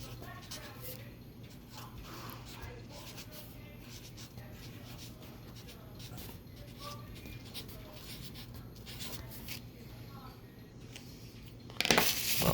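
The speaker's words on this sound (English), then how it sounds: "Let me write the other one down for you." A pen writes something down by hand, a faint scratchy scribbling in short strokes at close range, with a louder rustle or clatter at the very end.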